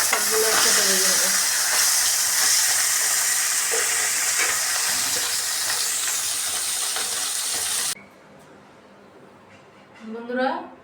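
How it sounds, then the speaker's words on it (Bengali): Fish fry in hot oil with a loud, dense sizzle that holds steady for about eight seconds, then drops sharply to a quiet background with a faint bubbling swell at the end. "এখন আমি বাকি মাছগুলো ছেড়ে দিব। সবগুলো একসাথে ভেজে নেব।"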